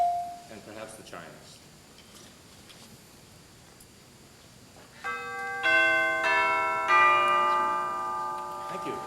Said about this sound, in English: And perhaps the chimes.